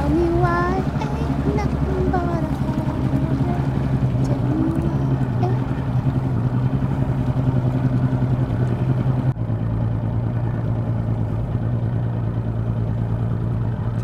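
A boat motor runs steadily throughout, a continuous low droning hum with a shift in tone partway through, close and loud with no talking.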